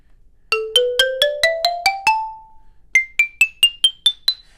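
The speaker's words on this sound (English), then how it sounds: "For this xylophone, I'm using a mallet that has a hard rubber head" Xylophone struck with a hard rubber head mallet: a rising run of bright, ringing notes, a short pause, then a second higher run of evenly spaced strikes, close and clear with no talk.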